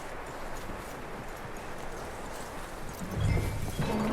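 Horse hooves clip-clop steadily across ground in a Wild West video game, a continuous walking rhythm at moderate volume, with a heavier low thump near the end.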